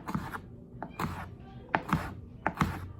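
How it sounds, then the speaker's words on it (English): A knife chops green onions on a cutting board in a kitchen, sharp irregular knocks of the blade striking the board, several in quick pairs, close and fairly loud with no talk. "So once you have your 2 green onions chopped up"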